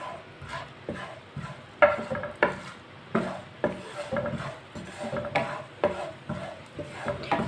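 Whole coriander seeds and garam masala being stirred and roasted in a little oil in a pan, quiet irregular scraping and rattling strokes of a spoon with soft sizzling underneath.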